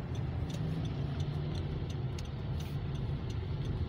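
A 2023 Honda Civic circles a roundabout in traffic, a steady low engine and road hum from inside the car, with faint ticking clicks throughout.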